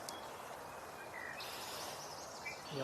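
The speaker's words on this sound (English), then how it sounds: "yellow warbler continues to sing." A yellow warbler sings faintly in the distance, short high phrases rising above a quiet outdoor background hiss, with no talking nearby.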